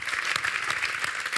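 Steady applause from an audience, dense clapping throughout with no voices over it.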